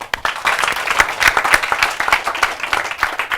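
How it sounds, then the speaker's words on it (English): A live audience claps together in sustained applause, many hands beating in a dense, steady patter that swells slightly and stays loud for several seconds. "Let everybody put a round of applause."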